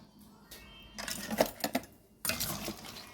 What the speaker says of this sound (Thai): เดี๋ยวเรามาตักใส่ขวดโหลกันเลยค่ะ ก็จะตักใส่